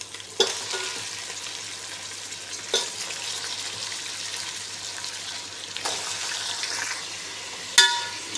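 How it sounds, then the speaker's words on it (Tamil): Chicken pieces fry in hot tempered oil for a chicken gravy curry, giving a soft continuous sizzle with a few sharp clatters of pieces dropping or being stirred in the pan. No one speaks. "இப்போ வந்து சிக்கன் ஒவ்வொன்றா உள்ளே சேர்த்துக்கலாம்"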